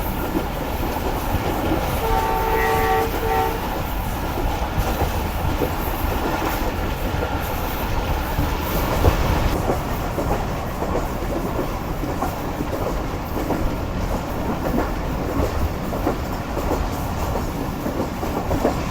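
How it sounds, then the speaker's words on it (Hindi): The 28 Down Shalimar Express, running between Lahore and Karachi, rumbles past close by with steady wheel clatter, and its horn sounds early in the pass before the rolling noise carries on. "तो ये आ रही है लाहौर कराची के दरमियान चलने वाली 28 डाउन शालीमार एक्सप्रेस।"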